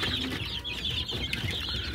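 Desi hens on a poultry farm cluck and murmur continuously at close range, a dense, overlapping flock chatter with no voices.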